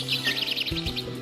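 Small birds chirp in quick repeated high tweets over steady droning game music in Alone in the Dark, a bright chattering series that fades out partway through.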